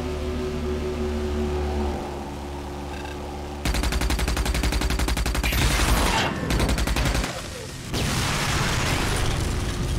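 Rapid automatic gunfire in the video game Rage, loud bursts running almost continuously through the second half over a dense backdrop of game noise, with a brief lull before firing resumes.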